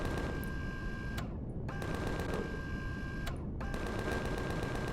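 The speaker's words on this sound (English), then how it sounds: "You can see how much damage those Xerax shotguns do." Xerax shotguns firing in the space game Empyrion: a loud, continuous rapid burst of gunfire with a steady mechanical hum, broken by two short pauses.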